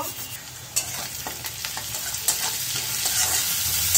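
Ginger-garlic paste and turmeric frying in a pan, with a continuous close sizzle and the repeated scrape of a spatula stirring through the mixture at a steady pace.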